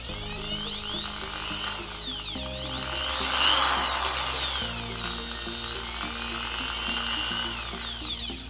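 A Bosch electric drill spins steadily at close range, its whining motor pitch rising and falling as the speed changes, with a continuous mechanical hum and no talking.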